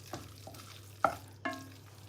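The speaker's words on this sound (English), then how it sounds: "Stir it around. Stir it around." Spaghetti stirred around in a pan gives a few soft, scattered scrapes and clicks, faint and close, with no talking.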